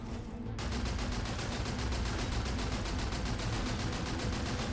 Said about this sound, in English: There's a heavy machine gun.